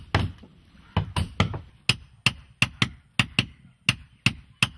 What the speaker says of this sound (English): The rhythm of the work follows the beat of the mallet.